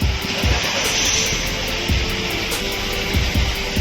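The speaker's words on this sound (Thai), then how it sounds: "ทำการติดเครื่องยนต์นะครับเพียงหยับเบรก" A Volkswagen Beetle engine, fitted with keyless entry and push-button start, runs with a loud, steady broadband roar heard close up throughout, without a clear start-up moment.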